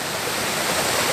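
Water pours steadily over a dam beside a water wheel after heavy rain, a dense, continuous rushing roar with no breaks, close and fairly loud.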